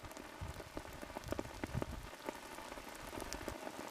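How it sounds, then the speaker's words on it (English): Steady rain patters and drums on an umbrella, a dense close crackle of drops with scattered sharper taps, continuous and even throughout with no voices. "The rain's drumming on the umbrella reminds you that you are an intruder"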